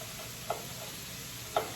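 Chopped white onion frying in a pan for homemade pasta Bolognese, a soft steady sizzle broken by two sharp clicks of a utensil against the pan, with no voices.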